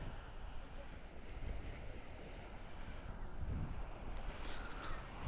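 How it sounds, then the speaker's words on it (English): Ocean surf rolls and washes in at Candolim Beach in Goa at sunset, a continuous rushing roar with wind buffeting the microphone and no talking. "look at the waves, so beautiful."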